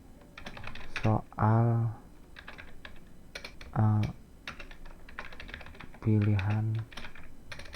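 Quick runs of computer keyboard keystrokes, close and fairly soft, clicking steadily while someone enters a title into an online form; someone speaks over and between the typing.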